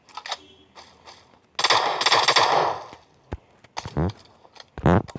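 A gun fired in PUBG arcade quick match, with a loud, close burst of rapid automatic gunfire followed by a few sharp, separate shots.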